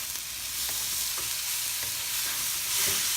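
Half-cooked pork belly sautéing in a pan, a steady broadband sizzle with a few soft stirring scrapes, close and continuous, no voices.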